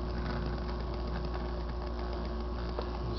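Bedini ball magnet motor turning at low RPM, giving a steady close mechanical whir with a low hum and faint rhythmic ticking throughout, no voices.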